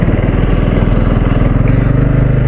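Motorbikes ride along the Delhi-Dehradun expressway, their engines droning as a steady, close, fairly loud rumble through the whole stretch with no voices over it.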